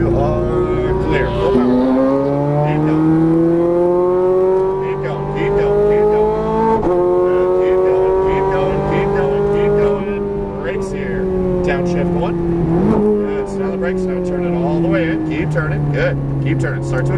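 A Ferrari 430 Scuderia on a racetrack revs and accelerates, its loud engine climbing and falling through gear changes over about seventeen seconds while an instructor talks over the engine.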